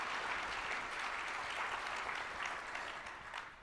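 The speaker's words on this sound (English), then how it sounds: "So could you please give them another round of applause?" A business luncheon audience claps in a sustained round of applause, a soft, even wash of many hands heard from a distance at low volume, tapering slightly at the close.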